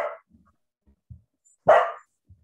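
A small, yappy dog barks somewhere in a home during an online meeting: a short bark, a couple of soft yips, then one louder sharp bark, with quiet gaps between.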